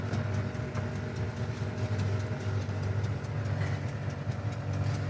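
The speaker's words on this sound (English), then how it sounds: "he just noticed what you're hearing now, just a little header leak at the collection there on the exhaust" Running V8 engine of a 1968 Chevrolet El Camino with an exhaust header leak at the collector, a loud continuous low rumble with a rapid ticking pulse throughout, heard up close.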